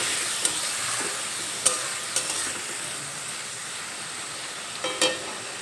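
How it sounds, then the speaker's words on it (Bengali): Spiced chana dal sizzles in a pan after water is added, while a spoon stirs and scrapes it with a few sharp clinks over a steady soft hiss. "জল দেওয়ার পরে একটু নেড়ে চেড়ে নেবো"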